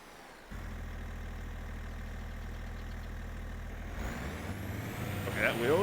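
A truck engine idling in a farming video game, heard as a steady low droning hum that holds evenly for several seconds before the sound shifts and brighter noises come in.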